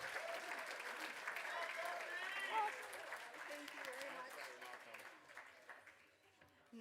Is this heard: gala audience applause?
yes